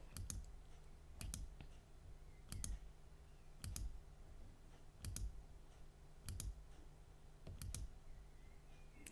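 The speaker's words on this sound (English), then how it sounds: "I'm just going to click on each really fast" Quick clicks come in clusters of sharp taps, each burst separated by roughly a second, over a steady low hum, with no one talking.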